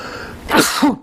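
A sharp, close throat-clearing burst resembling a sneeze, two quick explosive exhalations from a man in under a second, loud and alone.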